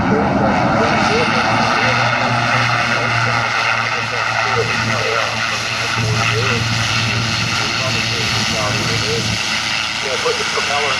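A propeller aircraft engine drones steadily and loudly throughout, with a constant low hum and broad roar while the propeller is put into reverse; a voice talks over it.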